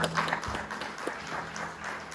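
A church congregation applauds, a soft continuous patter of many hands clapping at a moderate distance, fairly quiet and brief, with no clear talk over it.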